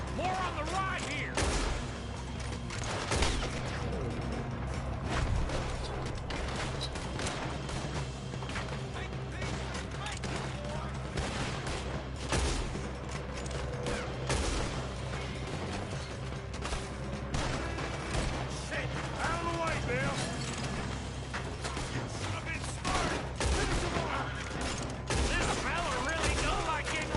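A shootout in Red Dead Redemption 2, with dense, continuous gunfire cracking in rapid bursts, mixed with mechanical clatter and occasional voices talking over the steady barrage.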